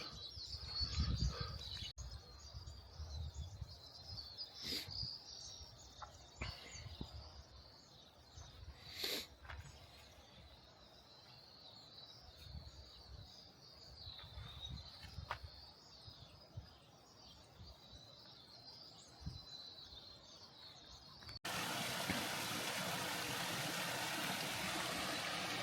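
Small wild birds chirp and tweet around seed and nut feeders at Whitewater Preserve on the Mission Creek trail, with scattered calls over a steady stream-like background rush that grows louder near the end.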